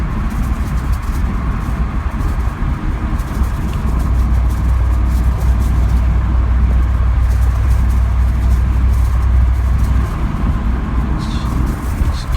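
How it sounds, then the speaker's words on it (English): A rebuilt V8 engine in a 1997 Camaro Z/28 rumbles steadily while driving, a deep, continuous low drone heard from inside the car with road noise, swelling slightly midway as it pulls. "you could probably hear the rumble of that V8."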